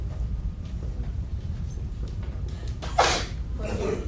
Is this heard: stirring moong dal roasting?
no